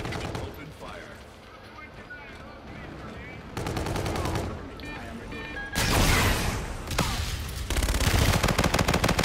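Rapid automatic gunfire rattles through a Call of Duty Infinite Warfare domination match, coming in several loud bursts that grow denser and closer toward the end, with a player's voice heard between them.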